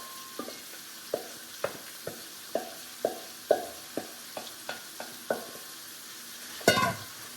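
Three large onions and a whole head of garlic being sautéed in a pan for a green bean casserole with bacon, heard as a faint sizzle under regular spatula taps and scrapes, about one every half second, ending in a louder clatter.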